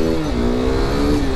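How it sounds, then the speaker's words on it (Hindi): A KTM RC 390 motorcycle engine revs steadily and loudly during a wheel spin, a close, sustained, droning roar with no talking. "बढ़िया बढ़िया व्हील स्पिन देख लो।"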